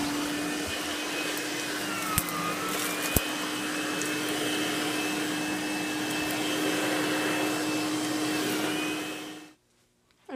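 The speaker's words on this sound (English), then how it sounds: "the vacuum." A household vacuum cleaner drones steadily and close at home, holding a constant whining hum with a couple of small knocks, then switching off near the end.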